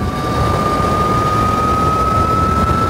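A turbocharged e-bike runs at full throttle with a steady, loud mechanical whir and a sustained high whine, holding constant with no talking.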